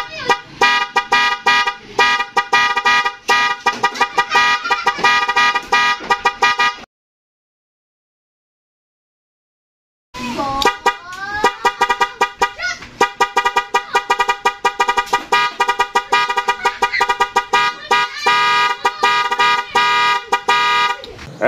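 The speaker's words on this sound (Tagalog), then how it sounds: "tapos na natin na i-wirings ang ating music horn with passing light" An NHAY 3+ pro music horn wired with a relay and passing light plays loud, close melodic tooting phrases with rapidly changing pitches, stopping for a few seconds of silence, then resuming with more tune patterns.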